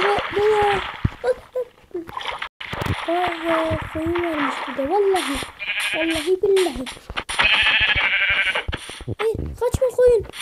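Sheep in the Minecraft video game bleat repeatedly, several wavering baa calls spread across the clip, with a player talking over and between them.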